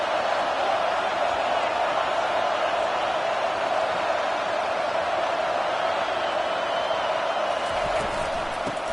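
Stadium crowd noise in the NCAA 25 college football video game, a dense steady roar that stays constant throughout, with no breaks or swells.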